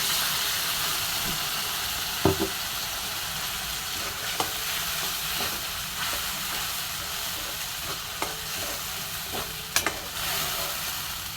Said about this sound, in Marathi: आता भाजी टाकली आहे आणि छान मिक्स करून घेऊया आता